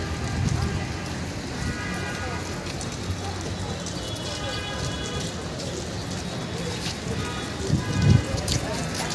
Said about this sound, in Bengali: দেখছো কিরকম বৃষ্টি?